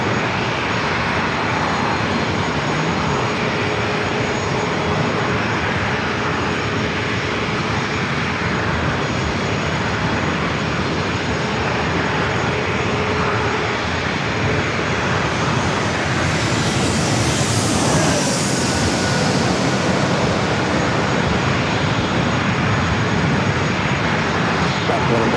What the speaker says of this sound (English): Alaska Airlines flight 1135 heading to Seattle, 737-900ER lined up, on the taxiway, waiting to line up.